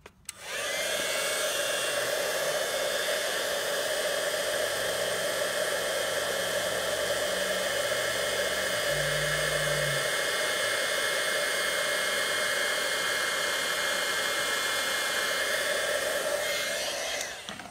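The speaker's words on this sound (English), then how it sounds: "let's heat emboss this and see if this is even worth it" A heat gun blows hot air over stamped heat-embossing work, a steady loud whooshing drone with a faint low hum joining midway before it clicks off at the end.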